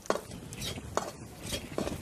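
Atta ladoo mixture with dry fruits stirred in a pan, a brief run of dry scraping strokes and a few spoon knocks on the metal, soft and close.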